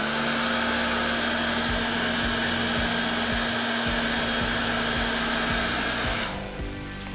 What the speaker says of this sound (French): je vais donc utiliser le sèche-cheveux pour chauffer un petit peu la partie